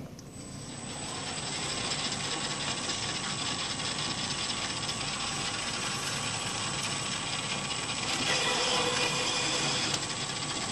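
A Jarvis tap head drives a lubricated tap into pilot holes, giving a steady close mechanical ratcheting whir that runs without pause and swells slightly louder near the end.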